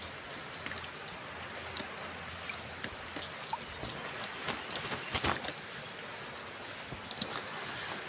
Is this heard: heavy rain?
yes